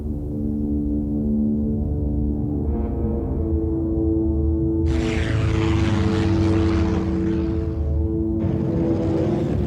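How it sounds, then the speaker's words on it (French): A WWII Grumman Avenger torpedo bomber droning overhead, its propeller engine a steady loud hum with a rising rush as the aircraft passes close by, no voices. "l'Avenger passait pour le meilleur bombardier lance-torpilles du monde"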